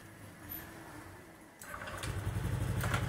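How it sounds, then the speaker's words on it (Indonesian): A Honda PCX scooter engine starts up after quiet idling noise and settles into a steady, low humming run that grows slightly louder. "Artinya udah ada suara dengungan dari. Nah ini artinya motor sudah hidup."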